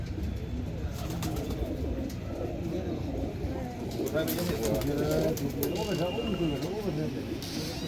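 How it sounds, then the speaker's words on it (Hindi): Pigeons coo in repeated soft, throaty rolls close by, while someone talks over them. "बहुत अच्छे कबूतर हैं जी पुराने मॉडल की कबूतर हैं"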